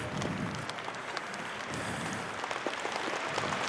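Audience applause at a concert celebrating the 40th anniversary of a Buryat group, welcoming a performer onto the stage; a steady, dense wash of clapping from a crowd, fairly distant and even throughout.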